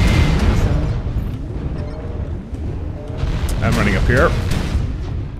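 Missiles pound a fleeing mech in MechWarrior Online, a steady barrage of dull booms and rumbling blasts near and loud, with in-game warning tones and someone talking over the top.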